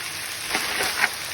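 Chicken adobo fries in a pan while its water cooks off, giving a soft, steady sizzle and crackle with a few brief louder pops.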